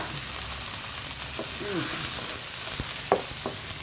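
Chili paste being stir-fried in a pan for a Thai pineapple curry with snails and tilapia: a soft, constant sizzle with scraping stirs and a few clinks of a utensil near the end, and no speech.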